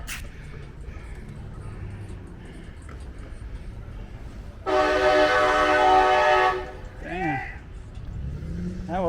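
A truck rumbles past outdoors, then a loud blaring horn sounds for about two seconds, followed by chirping and faint ambient noise.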